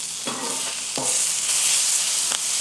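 Peppers blistering in a hot pan on a burger cook's stove give a steady close sizzle, with a couple of brief stirring scrapes or clatters, and no voices.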